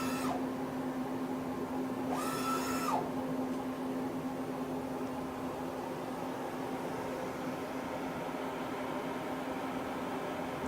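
Citizen M20V CNC Swiss lathe jogging its axes, a faint steady machine hum with constant background whir and two brief servo whines of rising and falling pitch near the start, heard alone without speech.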